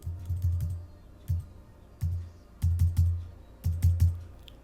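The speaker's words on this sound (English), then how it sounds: "I'm using the arrow keys." Computer keyboard arrow keys pressed in short bursts of quick clustered taps separated by pauses, close and fairly quiet with no talking.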